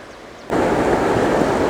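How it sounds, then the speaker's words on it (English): The Colorado River running swiftly beneath a bridge, a steady, loud rush of water that bursts in abruptly and then holds at a constant roar, close by. "Water's running pretty swiftly."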